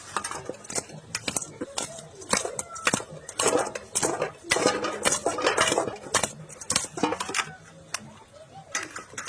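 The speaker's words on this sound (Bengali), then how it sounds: "বেশ সুন্দর করে মাছটাকে মাখিয়ে নেব" Fresh fish pieces are worked with turmeric and spices in a bowl, giving irregular clattering knocks and wet scraping squelches close up, coming in uneven bursts throughout.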